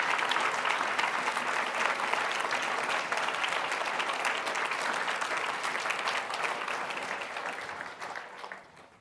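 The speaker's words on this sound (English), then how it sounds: "You may applaud." An audience at an award ceremony claps steadily for several seconds, a dense, even applause that holds strong and then tapers off near the end.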